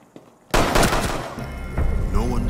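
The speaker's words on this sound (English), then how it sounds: "Gunshots rang out." Gunfire erupts in Rainbow Six Siege on Xbox One: after a quiet moment, a sudden loud burst of rapid automatic shots and booms, followed by continued shooting and impacts.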